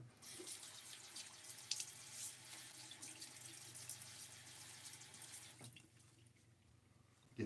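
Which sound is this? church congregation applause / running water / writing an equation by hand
running water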